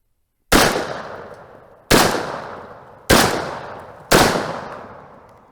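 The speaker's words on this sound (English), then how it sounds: "I am shooting deep curl first, then XTP, then deep curl, then XTP" Four loud .44 Magnum gunshots, fired with Speer Deep Curl and Hornady XTP rounds, crack out about a second apart, each sharp blast trailing off into a decaying echo outdoors.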